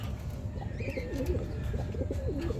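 Soft, low cooing of pigeons at a loft repeats in short phrases over a steady outdoor hum, with a faint bird chirp higher up.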